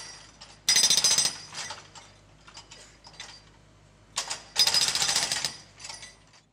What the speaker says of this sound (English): The digger uses the breaker to hammer into the concrete footpath.